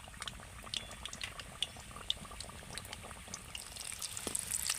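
A hand-shaped snack with a filling deep-fries in hot oil and is stirred until crisp; faint, busy bubbling and crackling sizzle runs steadily throughout, with scattered sharper pops.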